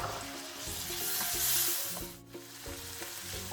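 Chopped tomato fries in a pan for palak paneer, giving a steady, close hiss of sizzling that swells and then eases. A brief clink and a faint stir come near the end, with no voices.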